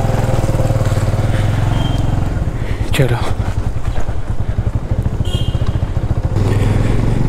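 A motorcycle engine runs steadily while riding on a road trip to the Statue of Unity near Rajpipla, with a loud close throbbing putter throughout, a brief rattling clatter midway and occasional talk over it.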